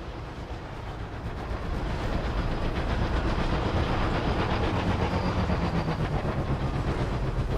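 A train in the video game Oddworld: Soulstorm rumbles along with a dense, steady clatter of wheels on rails, starting slightly quieter and then holding a loud, continuous roar; no talking.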